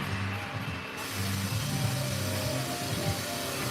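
Kisses Tower ride machinery at Hersheypark runs with a steady mechanical drone and low rumble, a faint ratcheting clatter riding through it, loud and continuous throughout.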